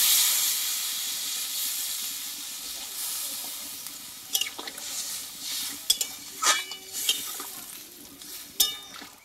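Hot water poured into a pan of fried spiced potato and soybean sets off a loud hiss that fades, followed by scattered clinks and scraping stirs against the pan.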